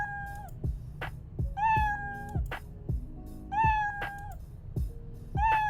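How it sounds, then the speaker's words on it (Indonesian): A cartoon cat in a Scratch coding project meows about six times in a regular, repeating pattern. Each meow is short and clear, and soft clicks come between them. No one speaks. "membuat kucing ini berjalan dan bersuara meow setiap kali dia jalan"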